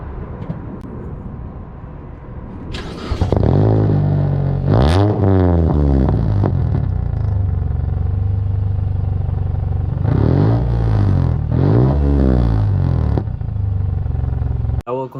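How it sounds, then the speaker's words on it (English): Engine of a Mitsubishi Lancer Sportback cranking and catching at a warm start, then idling loudly with several sharp exhaust revs rising and falling, the steady rumble continuing close by. "I'm gonna show you guys the actual exhaust."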